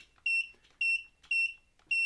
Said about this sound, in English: The beep, yeah, that's pretty annoying, but you can turn it off.